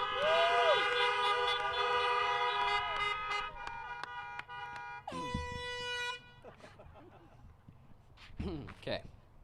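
Several car horns blare together in long overlapping blasts at a high school graduation, some steady and some wavering, then fade into scattered shorter honks and distant noise.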